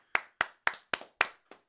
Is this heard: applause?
yes